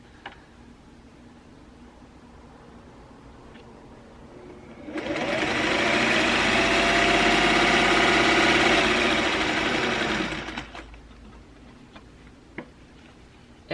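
A sewing machine stitches a fabric face mask, running in one steady, loud whirring burst of about five seconds before stopping with the needle down, with quiet pauses before and after.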